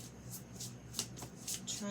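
A deck of playing cards is shuffled in a quiet indoor room, giving a few soft riffling bursts spread across a couple of seconds, close and faint, with a voice murmuring underneath.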